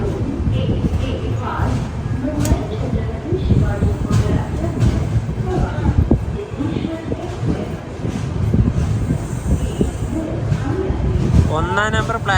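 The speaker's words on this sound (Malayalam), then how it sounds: "ഒന്നാം നമ്പർ പ്ലാറ്റ്ഫോമിലേക്കാണ് നമ്മുടെ ട്രെയിൻ വന്നിട്ടുള്ളത്. നമ്മൾ വന്ന സിദ്ധേശ്വർ എക്സ്പ്രസ് ഇവിടെ ഉണ്ട്." At Solapur station, the Siddheshwar Express rumbles at the platform, a low mechanical hum and clatter with a person talking over it for most of the time.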